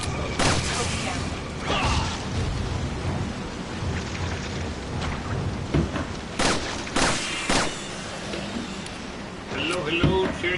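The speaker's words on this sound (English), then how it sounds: "we do apologize for the sound of fireworks outside" Fireworks go off outside during an indoor gaming session, sharp crackling bangs and distant thundering booms scattered irregularly through the clip, muffled and mixed with game sound and people talking.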